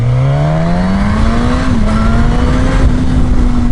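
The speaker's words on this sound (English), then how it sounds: "There's a lot of induction noise, as you can probably hear and have been hearing." A loud, close 2015 Suzuki GSX-S1000 motorcycle engine drones and rises steadily in pitch while riding, with a rough stock intake and exhaust roar throughout.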